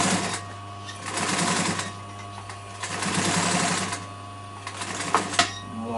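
A sewing machine stitches a cushion in close, loud runs of rapid mechanical whirring, pausing briefly between bursts, with a steady electric hum underneath.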